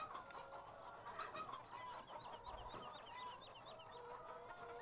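Chickens in the Farming Simulator 17 video game, a soft steady stream of overlapping clucks and chirpy calls over a low ambient hum, faint and continuous with no talking.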